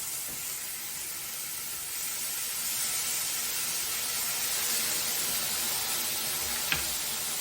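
Garlic, mushrooms and fresh thyme sizzle in a hot pan, giving a continuous broad hiss that swells slightly partway through, with one small clink of a utensil near the end.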